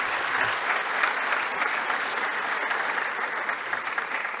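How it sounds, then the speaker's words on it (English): An audience at a conference claps warmly after a presentation, a sustained, even burst of many hands filling the room for a few seconds without speech. "let's give another round of warm applause to Mrs."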